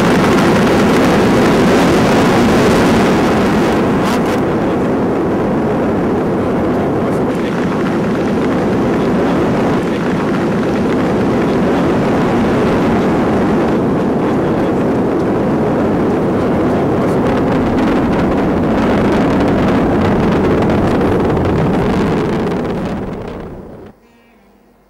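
ISRO rocket launch after ignition, a loud continuous broadband roar sustained for over twenty seconds before abruptly cutting off.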